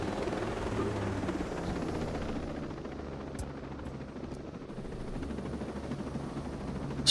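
Helicopter in Ghost Recon Breakpoint, a steady loud rotor drone with low thumping that holds evenly throughout, alone with no talk.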